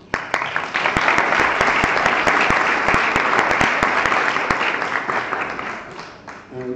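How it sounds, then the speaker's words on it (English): Delegates at an annual congress general assembly applaud in a full, continuous roar of clapping, with a few sharp individual claps standing out, fading slightly toward the end. "So we can clap again."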